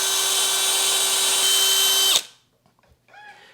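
A power drill bores into a softwood shelf board while building garage shelving, a loud steady whine for about two seconds that stops abruptly, followed by faint clatter and brief rustling.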